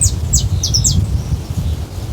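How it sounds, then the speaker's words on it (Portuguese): Outdoors at a campsite, birds chirp in quick high tweets over a steady low rumble of wind and rustling in the shade. "esses pássaros cantando, o vento soprando nessa sombra"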